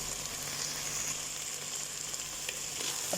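Rice frying with potato and carrot in a hot pan for keema khichdi, giving a continuous dense sizzle close up with a few brief stirring scrapes near the end.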